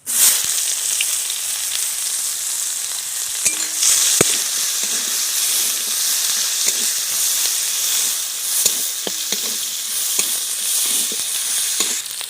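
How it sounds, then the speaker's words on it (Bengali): Chopped onion hits hot oil seasoned with whole cumin seeds, after fish has been fried in that oil, giving a steady close, bright sizzle throughout with a few faint clinks of stirring. "এবার দিয়ে দিচ্ছি পেঁয়াজ কুচি"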